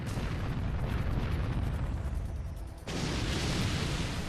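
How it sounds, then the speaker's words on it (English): Naval artillery fire in the warship game Warship Gunner 2, a dense, continuous rumbling roar of blasts that briefly dips before surging back at full loudness. "they've opened fire with live ammunition"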